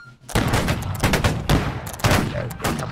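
Musket volleys in the video game Holdfast: Nations at War: loud, close, dense bursts of gunfire arriving in rolling waves roughly every half second, overlapping into a continuous battle roar.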